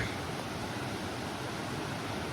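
Steady rushing water of Eastatoe Creek, a broad even hiss of a flowing creek, constant and moderately quiet with no other sounds.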